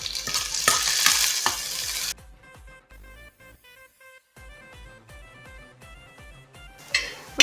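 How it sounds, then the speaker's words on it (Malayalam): Curry leaves hiss into hot oil in a frying pan with ginger and garlic, a burst of loud sizzling that drops to soft stirring taps under quiet tonal background music, then flares up again near the end. "ഇനി നമുക്കിതിലേക്ക് കറിവേപ്പില ഇട്ട് കൊടുക്കാം."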